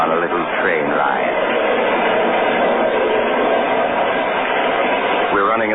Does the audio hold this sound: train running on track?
yes